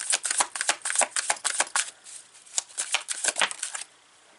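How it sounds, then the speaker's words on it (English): Tarot cards being shuffled close by in rapid bursts of riffling flutters, a short pause midway, then more riffles before stopping, with no one talking. "Let's pull some tarot cards for Pisces."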